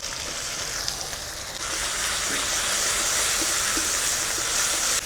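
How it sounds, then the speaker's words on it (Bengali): Masala of onion paste, green chilli, tomato, salt, turmeric, cumin, coriander and chilli paste fries in oil for Bengali tel koi, a steady close sizzle and hiss that grows a little louder partway through and continues without pause. "মশলাটা ভালোভাবে কষে নিয়েছি"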